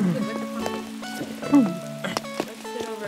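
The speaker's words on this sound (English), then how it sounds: "Let's sit outside in the rain." Rain pattering steadily in Animal Crossing: New Horizons, soft and continuous beneath gentle in-game chimes and musical tones, with no voices.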